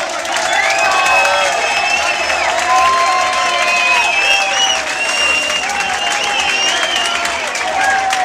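A live audience at a hardcore punk concert applauds and cheers loudly and steadily, a dense crowd roar with whistles and shouts running throughout.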